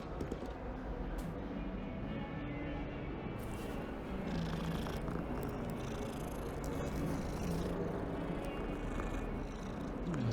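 A cat purring in the video game Hogwarts Legacy, a steady low rumbling purr running continuously over faint background ambience.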